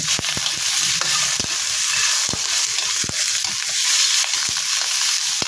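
Chicken feet for adobo sizzling and frying in a hot pan, a steady loud crackle with sharp pops and occasional stirring clicks throughout, no voices.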